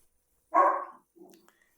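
A dog gives a single short bark, loud and close, followed by a softer small yip, with no talking.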